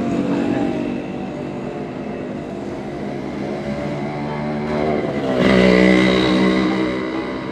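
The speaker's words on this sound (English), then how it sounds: "And here's like noisy motorbikes all the time." Motorbike engines drone and rev steadily in a busy street in Samaná, Dominican Republic, one growing louder as it passes close by before easing off.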